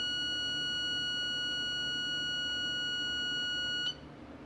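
Points-timing tester on a 1973 Suzuki TC125 gives a steady, high electronic buzzer tone that holds evenly for several seconds and then cuts off abruptly, leaving faint background hiss.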